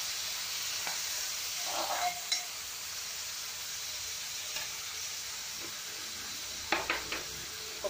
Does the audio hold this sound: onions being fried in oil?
yes